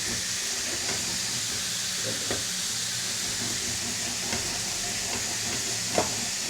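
Meat frying in a pan as it is shaken, a steady loud sizzle and hiss throughout with occasional scraping knocks, close by and without talk.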